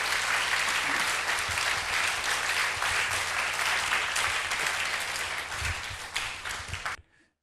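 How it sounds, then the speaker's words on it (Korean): A church congregation applauds together after a prayer, a dense, steady wash of clapping that holds for about seven seconds, then thins and stops abruptly. "다시 한번 주님께 박수로 영광 드리겠습니다."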